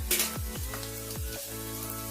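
Mustard seeds and cumin sizzle in hot ghee for a tomato gojju tempering, giving a soft, close crackle with a few quick pops.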